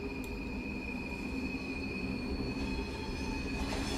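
A BR Class 450 electric multiple unit in Train Simulator 2020, accelerating with a steady rumble of wheels on rail, a sustained squeal and a continuous motor whine that hold throughout, with no talk.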